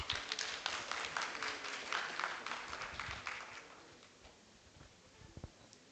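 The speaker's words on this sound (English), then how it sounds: "Let's give a round of applause." A conference audience at a law and technology event claps in a brisk, moderately distant burst of applause that thins and tapers off toward the end.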